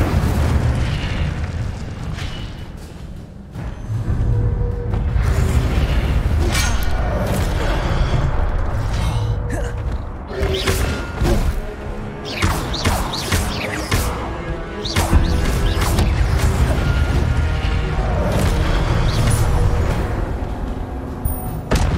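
A Hogwarts Legacy battle of dense booming blasts and crackling bursts as the Incendio fire spell erupts, loud and continuous over about twenty seconds with sharp impacts layered on roaring flame and rumble.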